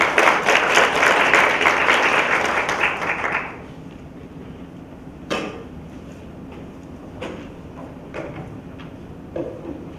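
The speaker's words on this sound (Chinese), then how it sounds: "现在就让我们以热烈的掌声来欢迎林总监上台。" Audience at a brand strategy seminar applauding as a speaker walks on stage, a dense burst of clapping that fades out after a few seconds, then scattered knocks and thumps in a quiet hall.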